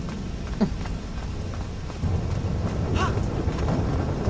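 Steady rain pours in the video game Little Orpheus, with low rumbling thunder that swells about halfway through and a constant wet hiss throughout, no talking.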